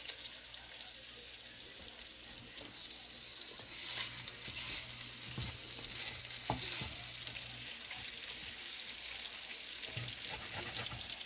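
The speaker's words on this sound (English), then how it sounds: "That's a good sizzle." Food sizzles and crackles steadily in a hot pan, a soft hissing bed with occasional pops and clinks, getting slightly louder partway through.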